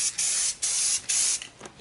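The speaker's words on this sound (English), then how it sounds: "So we're gonna spray a little bit of black on here." Black spray paint misted onto an epoxy countertop: four or five loud, close bursts of aerosol hiss, each about a third of a second long, separated by short pauses.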